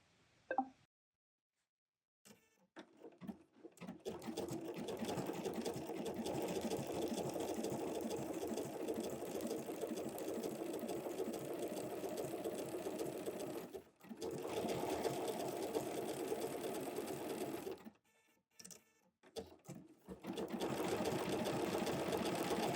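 A sewing machine runs a feather stitch across a crazy patchwork heart, with long steady motor bursts broken by brief pauses, close and alone with no talking.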